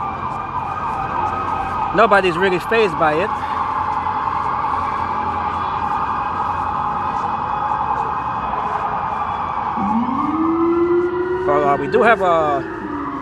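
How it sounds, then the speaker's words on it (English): Wailing fire department sirens on a Manhattan street, sustained and loud, with horn-like warbles and rising sweeps from several emergency vehicles over traffic while someone talks. "We got all sorts of sirens going on right now."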